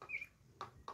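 Turkeys calling in a backyard give a faint, thin call followed by two short, sharp chirps spaced apart, heard from a distance with no talk.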